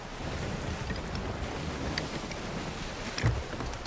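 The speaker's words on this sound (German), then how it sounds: "Oder dass die See so unruhig ist." Steady rushing of rough sea and wind in the video game Sea of Thieves fills the scene, with a single low thump near the end.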